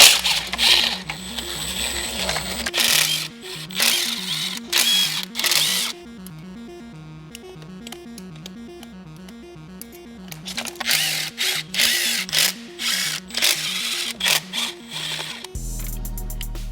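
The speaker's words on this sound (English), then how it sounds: "with an 11mm I can pull out the nuts" An 11mm tool backs nuts off the intake manifold of a BMW N62 V8 engine during a coolant pipe replacement, making a close, rhythmic run of sharp mechanical clicks and whirs in short repeated bursts with brief pauses.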